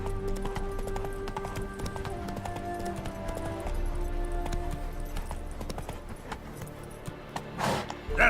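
Hoofbeats of Roach, the horse in The Witcher 3, clopping in a steady rhythm under game music, with a whinny-like burst near the end.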